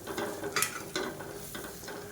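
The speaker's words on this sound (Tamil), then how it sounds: "இப்போ மீடியம் ஃப்ளேமில் அதை வதக்கி விட்டுக்கலாம்" Masala for a peas and potato curry sautés in a pan over a medium flame, giving a soft sizzle broken by a few brief scraping stir strokes, close and quiet.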